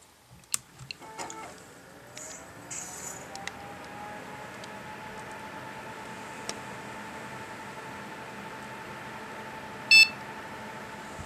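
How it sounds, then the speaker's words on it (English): A single short electronic beep at boot from a custom-built Core i7-4770K desktop's motherboard, sounding once briefly near the end after a stretch of low, steady hum and a few faint clicks. "One beep, it just goes to BIOS,"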